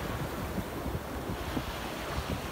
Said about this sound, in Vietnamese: vì sóng bây giờ nó đánh rất là mạnh